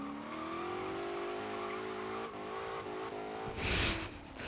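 Supercharged 1985 Holden VK Commodore Group A race car in Forza Horizon 3, its engine holding a steady loud drone that rises gradually, ending in a burst of tire squeal or skid noise.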